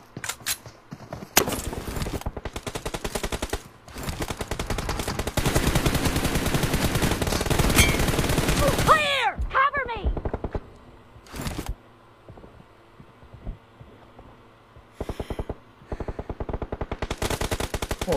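Rapid automatic gunfire from a first-person shooter game, with long sustained bursts and scattered single shots, punctuated by brief quiet gaps and short chirpy game effects, with no talk.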